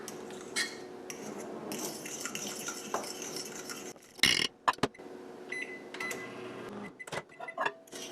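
A spoon stirs a thick coconut pecan peanut butter granola candy mixture in a bowl, giving irregular close scrapes and light clinks with a few sharper knocks against the dish.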